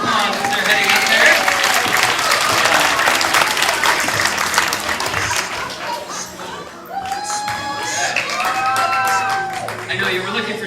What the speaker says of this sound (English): Give them both a big round of applause as they're heading up there.